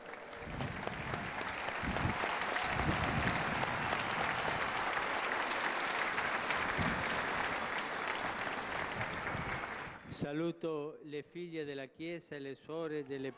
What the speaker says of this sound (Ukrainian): також оплески для нього